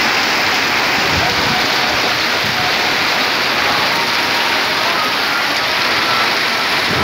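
Heavy rain pours down on a Muslim street in Maharajapuram during the rainy season, a dense, loud, unbroken hiss of water hitting the ground and nearby surfaces.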